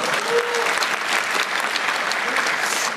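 An audience claps at a town hall meeting in Daegu with the South Korean president, a full, continuous burst of applause filling the room for a few seconds with no talking over it.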